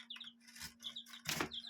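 Young white Kelso chicks peep in high, rapid chirps repeated in bursts close by, with a few louder fluttering or scuffling rustles mixed in.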